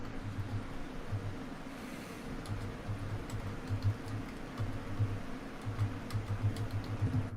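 Computer keyboard typing: soft, irregular key taps run steadily under a low background hum, with no voices.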